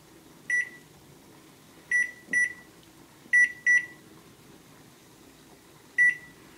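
Kitchen timer being set for 15 minutes while noodles cook: six short, sharp electronic beeps, irregularly spaced as the buttons are pressed, close and clear over a faint kitchen hum.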